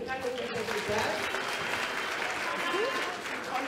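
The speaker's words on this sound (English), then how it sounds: "Can you join me in giving her a round of applause for the kind of work that she does?" An audience at an annual conference congress applauds a speaker, steady mid-level clapping from a crowd in a large hall with faint tonal sounds and brief murmurs beneath.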